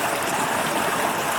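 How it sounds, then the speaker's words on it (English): A small waterfall on a creek spills beneath a bridge, giving a steady, close rush of falling water with no breaks. "There's this little bridge with a little waterfall"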